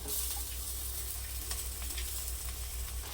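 Fish wrapped in banana leaf fries in a pan with a steady, even sizzle that runs without a break, soft but close.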